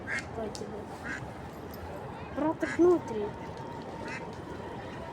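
Ducks and ducklings quacking outdoors in Prague, a few short quacks around the middle of the clip over steady background noise while a person talks.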